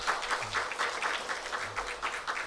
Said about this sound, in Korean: 우리 성가대원들에게 우리 다시 한번 감사의 박수 하겠습니다